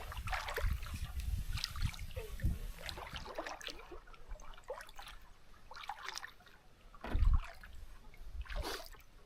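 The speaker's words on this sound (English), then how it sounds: "paddle across this lake to my portage" Canoe paddle strokes on a small Adirondack pond, irregular water swishes and drips close by with a few louder splashes, quiet outdoors, no talking.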